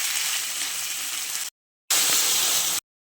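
Potatoes frying in oil with turmeric, cumin and salt, a steady loud sizzle heard in two bursts with a silent gap between them.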